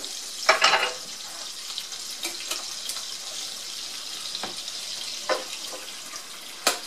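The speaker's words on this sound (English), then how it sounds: "So I'm going to go ahead and add my rice." Rice is added to a hot pan for Spanish rice, giving soft sizzling and scattered pattering clicks over a low hiss, fairly quiet and close with no talking.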